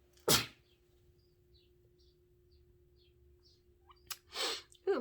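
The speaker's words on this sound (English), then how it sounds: "Sorry about that sneeze." A single sharp sneeze, close to the microphone, then quiet and a few faint chirps before a second burst of breathy noise near the end.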